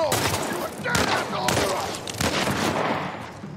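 Gunfire in The Last of Us Remake, a dense burst of loud shots in three or four clustered volleys, with a voice speaking faintly underneath.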